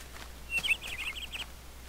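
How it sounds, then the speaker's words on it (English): A bird in a Minecraft modpack world (DNS Techpack) chirps a short series of quick, clear trilled notes over a quiet background, lasting under a second. "The birds are singing."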